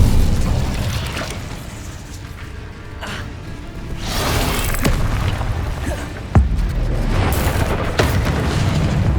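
The Incendio fire spell is cast in Hogwarts Legacy with a whooshing flare of flame, then a sharp booming burst and further swishes amid busy game effects.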